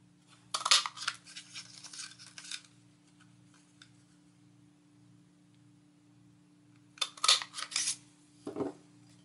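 A paper punch stamps out butterfly shapes from craft paper, two crisp bursts of crunching and clicking near the start and end, separated by quiet, with a low steady hum throughout.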